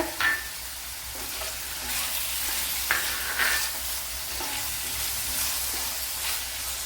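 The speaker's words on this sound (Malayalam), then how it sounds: "സവാളയോടൊപ്പം തന്നെ വെണ്ടയ്ക്ക ഇട്ട് കൊടുക്കുക" Okra and onions fry in a pan with a steady soft sizzle, broken by a few scraping stirs of a spoon, close up and moderately quiet with no talking.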